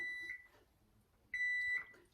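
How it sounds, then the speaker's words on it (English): A kitchen oven timer signals that a brown sugar caramel pound cake is done, sounding two steady electronic beeps, each about half a second long, separated by a pause. "The timer is going off."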